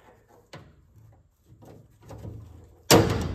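Metal clunks and scrapes as a roller bearing drawer slide is fitted into a Snap-on toolbox drawer, ending in one loud, close snap as it seats.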